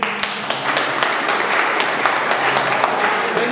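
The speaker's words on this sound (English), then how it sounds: "Let's clap hands." Congregation clapping hands after a talk on marriage, a sustained round of applause with distinct sharp claps over a dense bed, fairly close and loud, with faint voices beneath.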